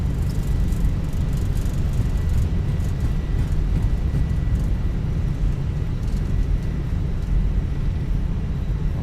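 A Lufthansa Fenix A320 in Flight Simulator 2024 rolls out after touchdown with reverse thrust engaged. It makes a loud, constant, broadband engine roar that holds steady throughout with no break.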